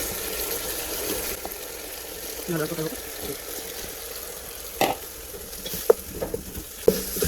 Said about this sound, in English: Mix it together and stir very well.